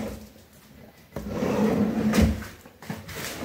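A kitchen drawer under an oven slides shut on tandem runners. There is a soft, smooth rolling rumble lasting about a second, ending in a muffled, damped thud, fairly close, with no voices.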